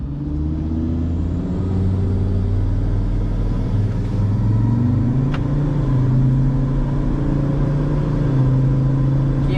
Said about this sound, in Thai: อันนี้เรา ก็ออกเพื่อที่จะดูความแน่นของเกียร์นะครับ